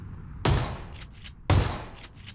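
Two loud, sharp rifle shots in PlayerUnknown's Battlegrounds, each a heavy crack with a long decaying echo, spaced about a second apart.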